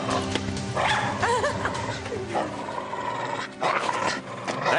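A dog yelps and barks in agitated, uneven bursts with a whimpering edge, up close in a tense outdoor scene from a French police drama, over steady background noise.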